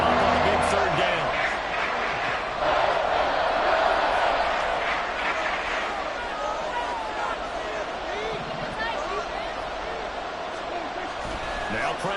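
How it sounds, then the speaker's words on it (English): A stadium crowd in the Madden 24 football video game roars steadily and loudly ahead of a big third down, a continuous wash of cheering with play-by-play commentary talking over it. "The crowd getting into it as we come up on a big 3rd down."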